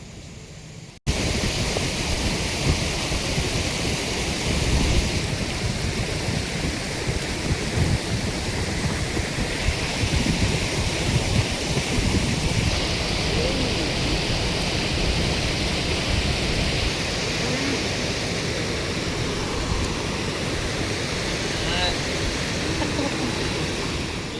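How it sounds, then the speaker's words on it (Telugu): River water rushing around rocks, a broad roaring wash that is loud, close and unbroken, beginning abruptly and then holding steady. "కావాల్సిన వాటర్ సౌండ్ కూడా వినండి."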